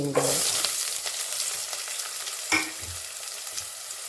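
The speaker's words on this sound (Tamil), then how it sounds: "வெங்காயத்தை நல்லா வதக்கி விட்டுக்கலாம்" Onions sautéing in a pan sizzle steadily and loudly, with a brief stir or clatter partway through and no voices, while ghee rice is being made.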